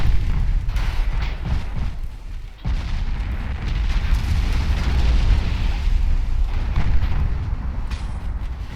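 A naval gunfire barrage of 10-inch guns in the Ultimate Admiral Dreadnoughts warship game rolls on as a continuous heavy rumble of overlapping booms, with a brief dip before the blasts resume; no talking.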